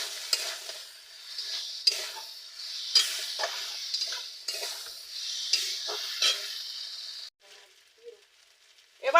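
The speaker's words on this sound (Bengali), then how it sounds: "দিয়ে ভালো করে কষিয়ে নেব" Taro and fried potatoes stir-fried in spice paste, bright sizzling broken by repeated scraping strokes of a spatula against the pan, then a sudden drop to near quiet with faint clinks.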